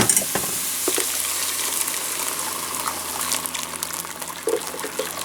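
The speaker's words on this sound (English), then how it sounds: "And now I'm gonna strain my soup" Butternut squash soup with crab meat pours steadily through a strainer, a continuous wet gushing and splashing that stays fairly loud for several seconds, with a few small clinks near the end.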